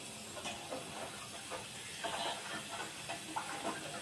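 Sugar syrup for gulab jamun, flavoured with cardamom powder, simmers on a stove with a steady, soft hiss and faint bubbling crackle that stays even throughout.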